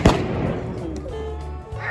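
A single sharp pistol shot cracks out at the start of a staged Wild West shootout, loud and close, then leaves a low rumbling tail.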